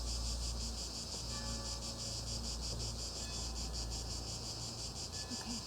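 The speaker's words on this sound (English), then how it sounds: "What is that, crickets? It's like deafening. I can barely hear myself think. They're cicadas." Dense, loud cicada chirring at night pulses on and on without a break, a continuous rhythmic buzz close by.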